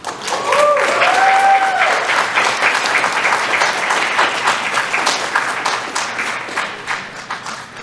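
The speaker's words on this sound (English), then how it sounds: "Please give them a huge round of applause" Conference audience breaks into loud applause that swells early and then slowly thins out, with a few cheers or voices near the start.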